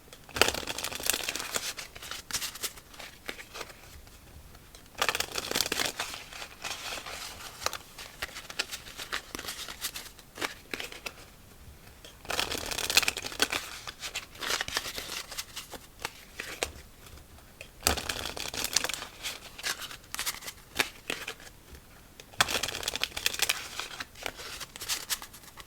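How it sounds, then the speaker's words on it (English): A deck of playing cards is shuffled over and over in close, crisp bursts of riffling and fluttering, each lasting several seconds and separated by quieter handling between them. "Right, last shuffle."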